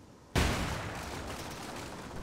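A sudden loud burst of gunfire in the survival video game Rust cuts in abruptly, followed by a sustained dense roar of shooting and noise that stays loud to the end.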